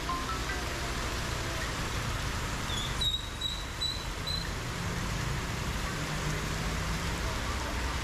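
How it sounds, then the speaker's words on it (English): Heavy rain pouring in Kuta, Bali, a dense, steady hiss of drops on surfaces that fills the whole stretch, with a faint brief tone partway through. "Just a heavy rain."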